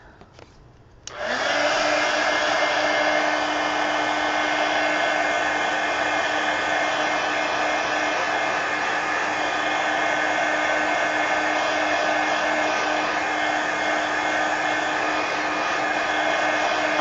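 A hair dryer or heat tool switches on after a second of quiet and runs in a steady, loud, continuous whoosh with an even hum, drying paint on an altered mixed-media book. No one speaks while it runs.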